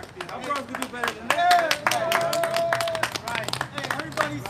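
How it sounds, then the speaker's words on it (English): An audience at a religious camp gathering claps and applauds throughout, with dense overlapping claps at moderate distance and voices and cheering mixed in. "Give the Most High a round of applause"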